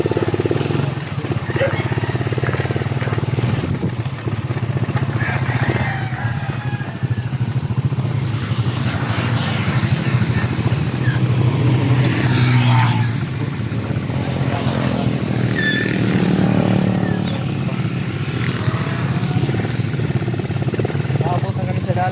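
Motorcycles ride along a busy road toward a highway, giving a loud, continuous close-up engine drone with shifting revs throughout, and voices talk over it.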